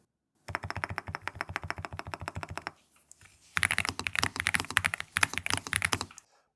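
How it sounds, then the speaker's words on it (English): Rapid clacky typing on a NuPhy Gem80 mechanical keyboard with tactile switches, close and steady, pausing briefly midway before a second fast burst of keystrokes. "for typing, I'm really enjoying these tactile switches."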